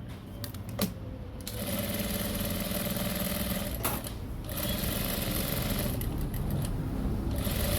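A sewing machine stitches a uniform jacket along a canvas edge, a close, fast, steady mechanical whir and rattle after a few short starts and stops at the beginning.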